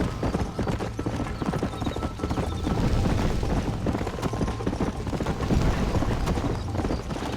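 A horse gallops in the Red Dead Redemption video game, its hooves clip-clopping in a fast, continuous rhythm that stays close and loud throughout, with occasional background rumbles.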